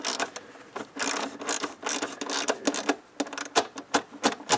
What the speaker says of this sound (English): now I'm gonna tighten up the 10 millimeters on each side. You can kind of hear them stop